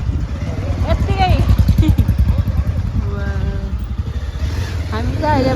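A motorcycle rides into Malpa village in the Mustang region, its engine chugging loudly and steadily close by while someone talks over it.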